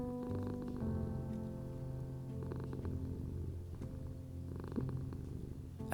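A cat purring steadily and softly, a continuous low rumble with gentle rhythmic swells, close and alone throughout.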